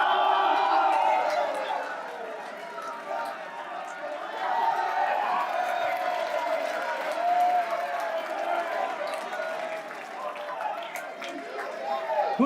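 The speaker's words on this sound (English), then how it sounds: "Go, go, go, go, cheer!" A crowd at a live event cheers and applauds steadily, a broad wash of claps, whoops and chatter held at a fairly even level throughout, with voices mixed in.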